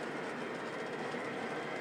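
A model train runs steadily along its track, giving a continuous close rolling rumble with faint clickety rhythm, heard alone without talk.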